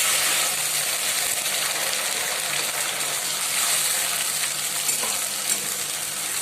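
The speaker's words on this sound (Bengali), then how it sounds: "এবার ভালো করে মশলাটাকে কষিয়ে নেব" A spice paste of tomato, ginger, garlic and onion fries in a pan, giving a loud, continuous close-up sizzle with faint stirring and no talking.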